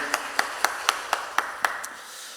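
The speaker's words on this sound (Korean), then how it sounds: "우리 하나님께 영광의 박수 올리겠습니다." A church congregation claps together in praise at a Friday prayer meeting, giving about eight sharp, evenly spaced hand claps close by, with no talk over them.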